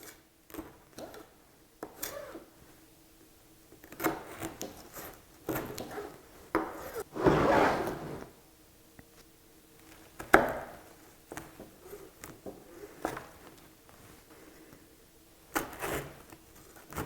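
A knife slices through a baked florentine slab into even bars, giving intermittent crunchy chops and scraping rubs at close range, with a louder burst of cutting midway and no talking.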